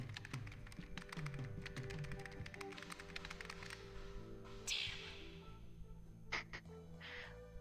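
Rapid clicking of someone typing on two computer keyboards, a steady close patter of keystrokes under a hum of background music, followed by a few sharper electronic blips near the end.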